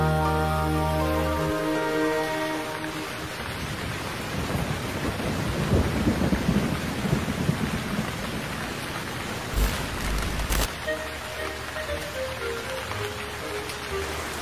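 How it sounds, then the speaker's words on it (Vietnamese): Thunderstorm with heavy rain pounding down, a steady loud wash of rain with deep thunder rumbling through the middle and a sharp crack near the end, no voices. "Chúng tôi đang gặp bão các bạn ơi."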